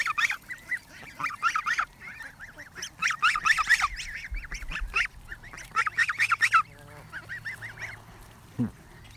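Several geese honk loudly at close range in bursts of overlapping calls, with short pauses between volleys and a few quieter honks near the end.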